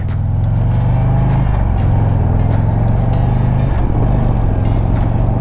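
A 2022 Harley-Davidson CVO Road Glide Limited touring motorcycle accelerates on the highway, its loud, close engine drone holding steady and stepping up in pitch through gear changes, with no talk.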